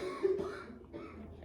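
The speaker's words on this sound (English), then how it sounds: "Everybody's coughing." A person coughs once or twice indoors, short and close, with no speech around it.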